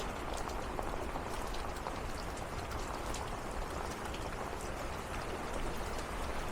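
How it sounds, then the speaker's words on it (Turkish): Heavy rain pouring down steadily, a dense hiss of drops pattering on surfaces with no voices. "Bayağı bir yağmur yağıyor."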